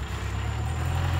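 A New Holland TS90 tractor engine runs at a steady, heavy low drone, close and continuous, with no break or change in pitch throughout.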